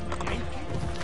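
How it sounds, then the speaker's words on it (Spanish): Horse hooves clatter in the video game Assassin's Creed Brotherhood, a quick irregular clip-clop of a ridden horse mixed with faint mechanical game sounds, moderately quiet and steady. "Vamos a agarrar el caballo para ir más rápido."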